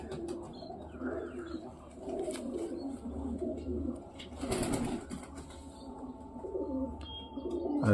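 Domestic pigeons kept at a home loft coo in low, rolling phrases, several birds overlapping at close range, with a few light chirps and a brief flutter of wings partway through; no one speaks.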